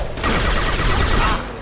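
Gunfire in Mass Effect 2, a loud dense burst of shots lasting over a second, close and forceful with a rough noisy tail.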